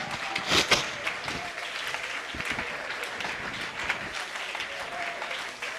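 A church congregation at a Pentecost service applauds loudly and steadily, a dense wash of clapping with some cheering, heard from within the crowd.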